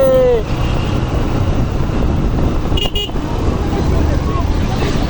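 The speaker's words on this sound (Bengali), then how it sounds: "এক্সপ্রেসওয়েতে বাইক চলতেছে" A motorbike rides along an elevated expressway, its steady loud engine and wind roar filling the clip amid traffic, with a brief horn toot near the start.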